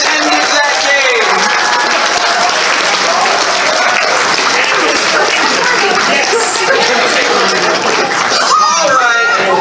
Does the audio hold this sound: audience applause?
yes